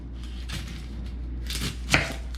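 Kitchen knife cutting the ends off an onion on a board, a few crisp close chops with one sharper thud near the end, over a low steady hum.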